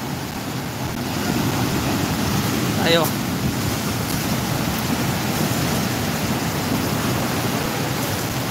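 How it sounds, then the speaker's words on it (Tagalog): Strong storm-surge waves pound the port at Nato, Sagñay, Camarines Sur, a steady roaring wash of surf with wind buffeting the microphone, one louder surge near the middle and a brief spoken word partway through. "Binabayo ng malakas na alon ang parting ito ng Nato"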